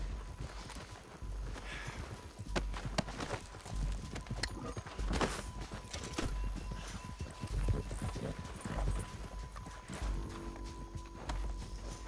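Horse hooves clip-clop steadily in Red Dead Redemption 2, a busy run of repeated hoof impacts over a dense game soundscape with scattered sharper hits, continuing for the whole stretch without speech.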